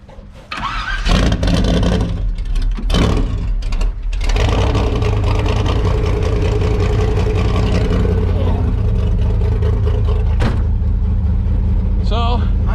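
A family-owned 1970 gasser's engine fires up and rumbles loudly through a ride, with steady revving and brief gaps, while people talk over it.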